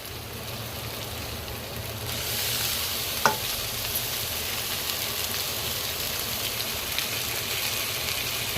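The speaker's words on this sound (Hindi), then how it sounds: "और अब चलाते हुए नूडल्स को मिलाना है।" Noodles stirred and fried in a kadhai with tempered seasoning for spring roll filling, a steady close sizzle with scraping stir strokes and one sharp clink, no talking.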